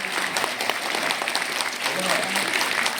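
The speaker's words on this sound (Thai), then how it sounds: "เราขอเสียงปรบมือดังๆ" Audience applause at a gala performance by a Thai dubbing team, a dense, steady clapping from a crowd that fills the whole stretch at even loudness.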